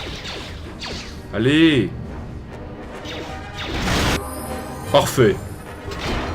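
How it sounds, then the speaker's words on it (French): An ion grenade bursts in Star Wars KOTOR 2, a short loud broadband blast in the middle of the game's sounds, while someone speaks short exclamations before and after. "on va lui envoyer peut-être une grenade à ion"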